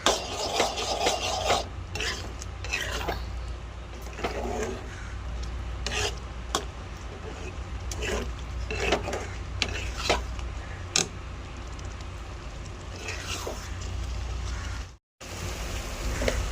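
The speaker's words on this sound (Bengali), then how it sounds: "আর সয়া সস দিয়ে আমি ভালো করে নাড়িয়ে দিলাম।" Mango pickle is stirred with vinegar and soy sauce in a pan, giving continuous scraping and rasping with irregular scratchy strokes over a steady low hum, briefly cutting out near the end.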